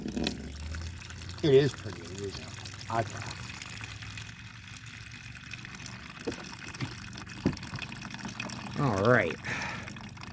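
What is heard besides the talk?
water being poured and filtered for potash prep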